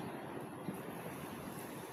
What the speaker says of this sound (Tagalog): Tamang hangin, tamang alon lang.